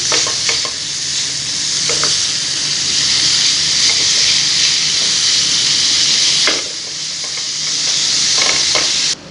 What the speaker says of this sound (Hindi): अब यहाँ पे हम हल्की सी भुनाई कर लेंगे।